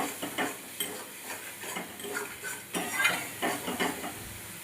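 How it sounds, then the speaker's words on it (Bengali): A spoon stirs a masala for a Pabda fish curry with water added in a pan, making repeated soft scraping strokes with a light sizzle underneath. The stirring is fairly quiet and close. "জল দিয়ে নিয়েছি যাতে মশলাটা পুড়ে না যায়, আর ভালো করে যেন কষিয়ে নেওয়া যায়"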